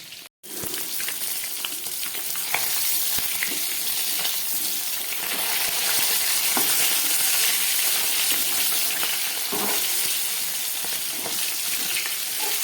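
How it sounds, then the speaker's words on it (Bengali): Fish frying in hot oil in a pan for a fish curry, a loud, steady close-up sizzle with crackling spits running throughout, no talk. "চলুন এবার দেখি মাছটা কতটা ভাজা হয়েছে।"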